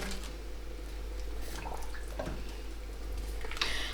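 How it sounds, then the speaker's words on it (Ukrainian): Cabbage pieces dropped into a pot of boiling water on a stove, giving soft splashes and wet plops over a steady bubbling hiss, close and moderately quiet. "І зараз я кладу в цю воду крижавки."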